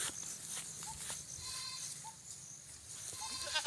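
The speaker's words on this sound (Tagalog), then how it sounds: "Papastol ako ng mga kambing" Goats herded through a provincial farm field bleat in short, scattered calls, some near and some farther off, over soft footsteps and a steady outdoor hiss.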